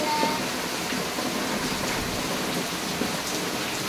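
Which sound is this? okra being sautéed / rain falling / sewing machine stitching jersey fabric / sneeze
rain falling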